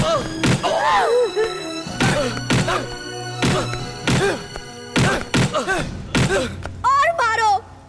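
Heavy blows land in a South Indian movie fight scene, several dull thuds and thumps spaced through the clip, mixed with loud shouted voices and grunts.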